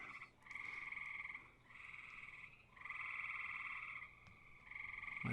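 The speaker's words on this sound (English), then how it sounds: "Can you hear those frogs outside?" Frogs croak outside at night in a steady chorus of repeated, trilling bursts, faint and distant, with short pauses between phrases.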